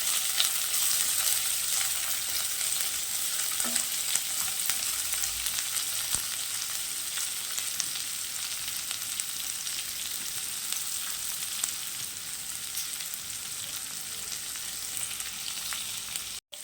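Chopped onions for a dhaba-style egg tarka sizzle steadily in a pan, a dense, close hiss with scattered crackles and occasional stirring, holding even throughout before an abrupt knock at the very end.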